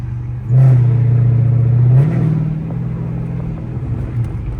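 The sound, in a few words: straight pipe car exhaust at open throttle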